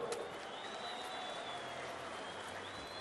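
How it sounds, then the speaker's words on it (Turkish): Audience applause at a Kırkpınar oil wrestling event, an even patter of clapping from a crowd that holds steady at a moderate distance for the whole stretch. "bir alkış istiyorum kendisine"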